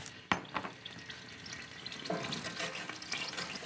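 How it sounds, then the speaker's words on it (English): Red wine hits a hot pan on high heat with a sharp burst, then a steady hiss and bubbling sizzle continues as it deglazes, close and fairly loud. "And now on high heat, 1 cup of red wine. And we'll deglaze the pan."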